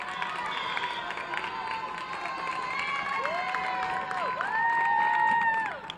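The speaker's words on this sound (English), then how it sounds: "Crowd coming alive here" A crowd at a high school volleyball match between Revere and Chelsea gives a steady murmur that swells into cheering toward the end, with sharp sneaker squeaks cutting through on the court.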